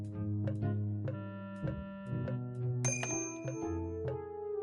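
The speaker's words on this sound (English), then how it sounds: "Oh, there's a bell on the door. I mean, on the desk. Let's see what happens if I use it." In the Day of the Tentacle video game, a desk bell rings as a series of bright metallic dings, roughly eight evenly spaced strikes over a sustained musical backdrop, clear and close.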